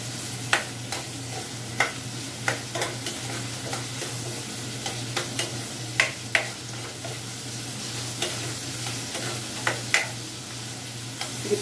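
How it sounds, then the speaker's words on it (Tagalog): Onions sautéing in a pan for spicy adobo chicken feet, a steady low sizzle with irregular scraping clicks of a spoon stirring through them, close and alone with no talk. "Halo-haloin hanggang maluto yung ating sibuyas"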